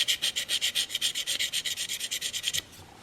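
Steady back-and-forth rubbing strokes of a single bevel Annihilator broadhead laid flat on a 1200 grit sharpening stone, about a dozen rhythmic scrapes, close and crisp, then stopping.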